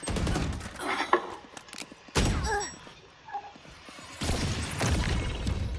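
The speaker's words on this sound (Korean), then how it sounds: "저 샷건 그냥 대충 허공에다 갈기다가" A shotgun is fired into the air in a video game. Several loud blasts come in bursts with a quieter stretch between them, and no voices are heard.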